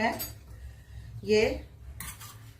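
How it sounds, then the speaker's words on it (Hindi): A small metal tempering pan is handled in a home kitchen, with scattered clinks and scrapes of metal against metal. A brief scrape swells near the middle, and a few sharp knocks come toward the end. "मैंने वो ले लिया है छौंक पैन"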